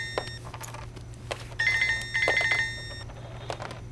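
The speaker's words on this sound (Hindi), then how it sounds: "किसका फोन है?" A telephone rings indoors in repeated electronic trilling bursts, clear and fairly close, with a low steady hum beneath and no talk.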